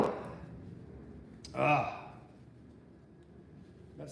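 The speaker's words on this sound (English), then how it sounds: "That sneeze just caught up to me there." A single sharp sneeze from a man in a truck cab bursts out suddenly between quieter stretches of low background hum and faint movement.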